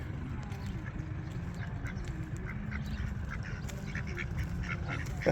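Canada geese call by ponds and flowers at Tingley Beach, giving repeated short honks at a moderate distance over a steady outdoor background. A low hum of distant talk runs underneath.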